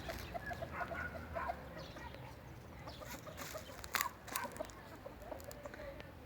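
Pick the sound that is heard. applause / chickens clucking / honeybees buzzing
chickens clucking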